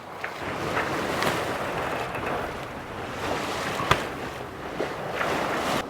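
A sailboat motors at sea in light wind with its sails raised, giving a steady broadband wash of engine, water and wind noise with a few brief knocks, and no talking.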